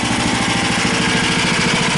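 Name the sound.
engine of a homemade band sawmill running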